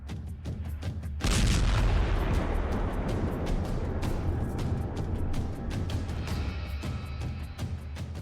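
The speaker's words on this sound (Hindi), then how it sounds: "यूक्रेन पर एक साथ कई रूसी मिसाइलों का हमला हुआ।" Russian missile strikes exploding in Ukraine in news footage: a sudden heavy boom followed by a long, loud rumbling roar with sharp crackling impacts scattered throughout.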